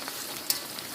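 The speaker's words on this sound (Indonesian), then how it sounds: "Sambil menunggu tempe digoreng" Slices of tempeh sizzle in hot frying oil with a steady, crackling hiss and a sharp pop midway through, close by and without speech.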